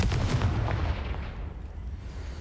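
A Confringo blasting spell explodes in Hogwarts Legacy, a heavy booming blast with a rumbling low tail that fades out over a couple of seconds, heard alone.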